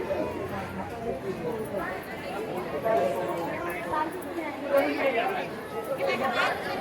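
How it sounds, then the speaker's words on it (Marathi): Dense crowd chatter fills the grounds of the Alandi Mauli temple near Pune, a steady hubbub of many overlapping voices close around with no single speaker standing out. "गर्दी पण भरपूर आहे"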